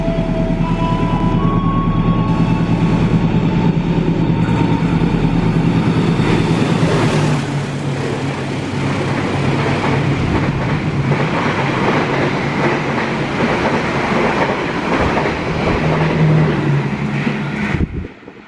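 A long Indonesian passenger train with ten executive-class cars passes close by, producing a loud, sustained rumble and wheel clatter for about eighteen seconds before cutting off abruptly.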